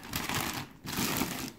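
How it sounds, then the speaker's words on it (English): A plastic bag crinkles and rustles as a collectible figure of Akagi is pulled out of it, two close bursts of crackling separated by a brief pause, with no talking. "I'm going to take her out of the plastic bag."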